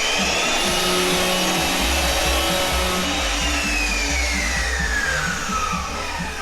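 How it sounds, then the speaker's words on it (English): An electric planer shaves foam from a custom surfboard blank, a loud, steady whining roar with a rough motor drone running throughout the stretch, close and continuous. "Let me see the planer really quick"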